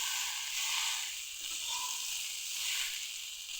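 Soybean chunks frying in a pan for a soybean curry, giving a steady close sizzle with soft hiss that swells and eases slightly throughout, with no talking.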